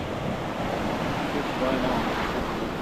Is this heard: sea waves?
yes